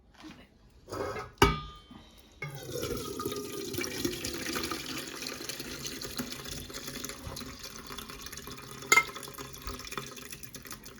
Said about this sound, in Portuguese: eu vou deixar ele escorrendo assim, rapidinho, assim, só até parar de pingar